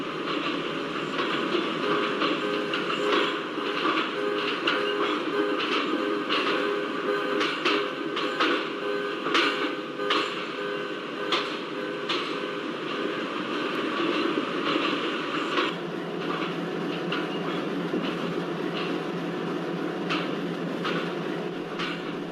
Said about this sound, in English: We are crossing unnamed level crossing slowly